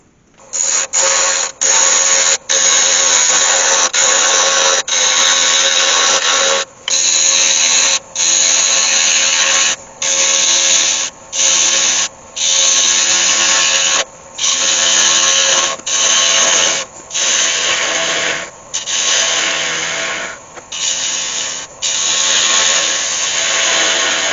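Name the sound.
wood lathe turning a green cherrywood pedestal bowl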